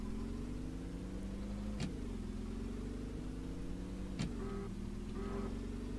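A 2021 BrickLine Lusitan car accelerates hard from inside the cabin, its engine drone climbing steadily in pitch and dropping back at two gear shifts, heard close and alone.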